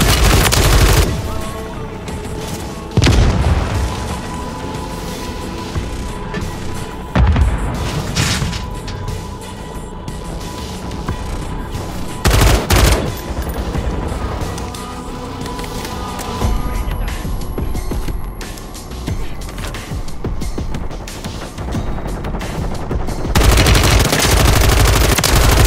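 Combat in the video game Call of Duty Modern Warfare 3 zombies mode: a dense, continuous battle bed with repeated loud bursts of gunfire and booms standing out every few seconds.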